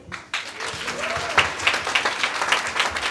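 Audience applause at a Black Excellence awards night in Milton Keynes, starting abruptly and building into steady, dense clapping from a large crowd with scattered louder claps and a brief vocal whoop.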